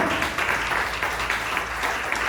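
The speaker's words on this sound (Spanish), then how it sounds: "Es mi aplauso al Señor" A church congregation claps in a dense, continuous burst, moderately loud and filling the space throughout with no pause.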